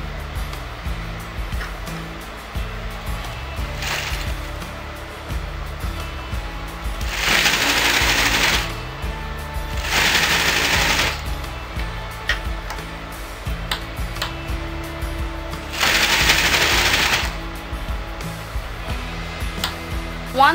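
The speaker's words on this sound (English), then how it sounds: "fold one side of the belt and put a stitch" Sewing machine stitching a folded fabric belt for a circle skirt lehenga, with ticking mechanical clatter and several loud bursts of fast stitching separated by quieter handling.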